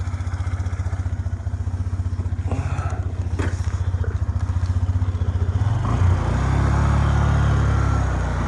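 A Suzuki Address V125 G scooter on a test ride: close, rapid pulsing engine putter that rises in pitch and loudness as it pulls away, ending in a steadier louder drone.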